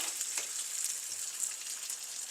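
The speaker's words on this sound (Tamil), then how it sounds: "இப்போ இது நல்லா ஃப்ரை ஆகட்டும் இது நல்ல வெங்காயம் நல்லா ஃப்ரை ஆகட்டும்" Onions and curry leaves frying in a pan for a mango curry, a steady, soft, hissing sizzle with faint crackles, close and continuous with no talking.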